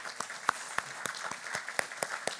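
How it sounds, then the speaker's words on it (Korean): Church congregation applauding to welcome visiting presbytery members at a Wednesday service, a soft scattered patter of hands with several sharper individual claps standing out. "안 일어나신 분들이 박수 한번 치고"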